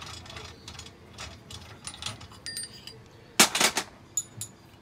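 A 17mm spanner undoes the shaft on a briefcase tyre changer, giving a short burst of metallic ratcheting clicks and clinks near the end over faint background noise.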